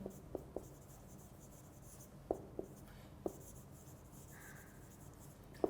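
A sentence is handwritten during an online English lecture, with faint scratching strokes broken by several sharp taps from the pen against the writing surface, in a quiet room.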